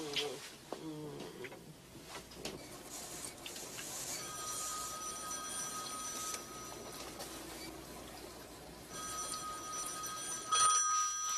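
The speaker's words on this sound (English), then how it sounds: "answer the phone" A telephone rings inside a home in two separate bursts of electronic trilling, moderately loud over a steady background hum, with no talking.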